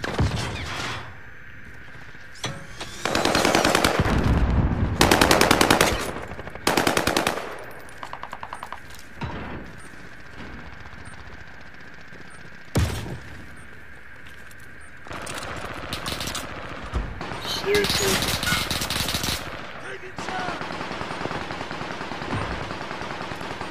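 Rapid bursts of automatic machine gun fire in a team-based multiplayer shooter game, loud and close, coming in several long rattling volleys separated by brief quieter gaps, with a steady background hum of game ambience.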